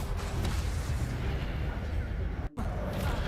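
A burst of an Incendio fire spell in the Hogwarts Legacy video game, a dense, loud, roaring blast of game effects that fills the whole clip, briefly cutting out for a moment near the end.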